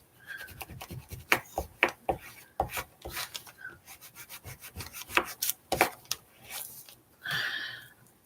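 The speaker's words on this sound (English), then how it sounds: "Maybe if I rub it really, really hard into the paper." Paper is rubbed hard against a clear-coated surface to make it release, producing a series of close, scratchy, rasping strokes in an uneven rhythm that ends in a longer scrape.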